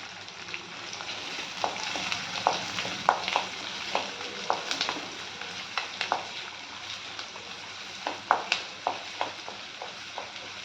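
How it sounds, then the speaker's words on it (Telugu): Onions and curry leaves fry in hot oil in a pan for gokarakaya vellulli kaaram, a steady close sizzle broken by frequent sharp crackles and pops, with occasional stirring scrapes and no voices. "మంచిగా వేగాలండి, ఉల్లిపాయ పచ్చిదనం ఉండకూడదు"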